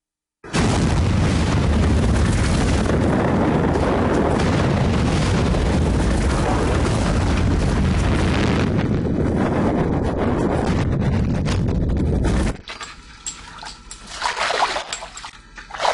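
A massive volcanic explosion, the eruption of Toba on Sumatra, sounds as a loud, sustained rumbling roar with splashing, wind-like turbulence that runs for about twelve seconds, then drops abruptly to a quieter, hissing tail.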